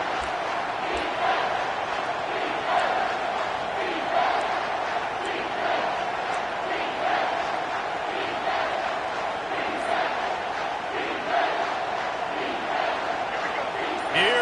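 A home crowd in an American football video game roars steadily on a third down, a dense continuous wash of cheering and chanting with a commentator talking over it.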